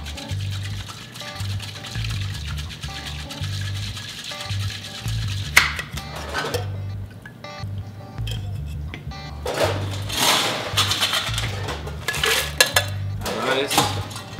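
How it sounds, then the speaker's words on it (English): A cocktail shaker dry-shaken with syrup and a whole egg and no ice, giving a busy rattling and sloshing that grows louder and more vigorous toward the end, with a steady low hum underneath. "We're gonna dry shake that first."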